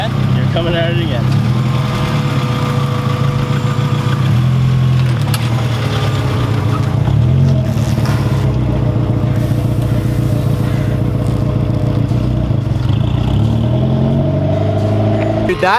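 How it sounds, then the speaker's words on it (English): An air suspension compressor runs inside an EG Hatch car, a loud, steady droning hum with strong tonal bands that persists without break, shifting slightly in pitch partway through. "that compressor needs to go somewhere else. It's so loud."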